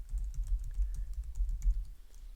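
Fingers tap out a terminal command on a Mac keyboard, a quick, close run of light key clicks at an uneven rhythm with no one speaking.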